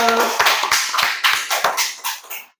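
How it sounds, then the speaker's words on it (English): Applause for a guest lecturer on a podcast recording, a small group clapping in a slow, evenly spaced series of sharp claps close by, fading out at the end. "give applause"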